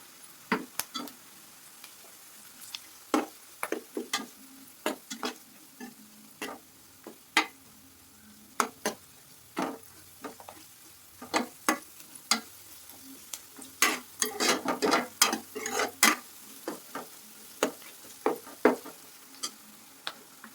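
Ingredients fry in oil for a snakehead fish curry with a soft sizzle underneath, while a spoon clacks and scrapes against the pan in irregular, close strokes, some quick clusters of stirring.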